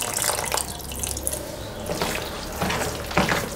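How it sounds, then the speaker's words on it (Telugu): Water trickles and splashes as a small amount is poured into tempered curd rice, the liquid sound steady and close with a few brief louder gushes, no voices. "కొద్దిగా వాటర్ వేసుకుంటే"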